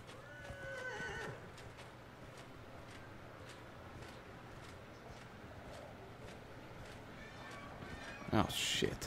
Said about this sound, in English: I guess it would be smarter to just use my horse here.